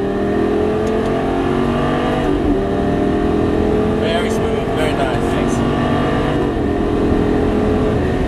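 A Lamborghini Gallardo on a race track holds a loud, steady engine drone throughout, with a person talking over it.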